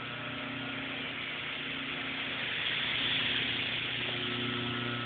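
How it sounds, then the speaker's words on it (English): Old GE electric motor running after being plugged in, a steady, fairly quiet hum with a faint even whine, continuous and unchanging throughout. "GE motor, nice and quiet."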